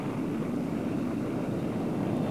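Air force planes in The Deadly Mantis fly past as a continuous, loud, broadband propeller roar, steady and unbroken throughout with no voices.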